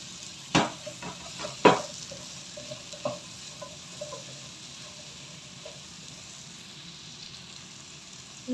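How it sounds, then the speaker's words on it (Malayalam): Potato and carrot pieces being stirred into a curry base in a pan, with a soft continuous sizzle and a few sharp spoon knocks against the pan early on, then quieter irregular scraping. "ഉരുളക്കിഴങ്ങ് ക്യാരറ്റ് ഇതെല്ലാം കൂടെ ഇതിലേക്ക് ഇട്ട് കൊടുക്കാം ഇളക്കി കൊടുക്കാം"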